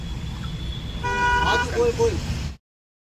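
A queue of cars on a village road, with a car horn tooting in a few short blasts over a low engine rumble and road noise while people talk nearby, before the sound cuts off abruptly.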